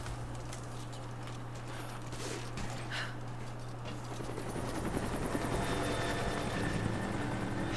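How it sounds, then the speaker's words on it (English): A helicopter arrives in the video game Rise of the Tomb Raider, its steady rotor drone filling the scene and growing louder and denser toward the end, alone without talk. "Look at that helicopter."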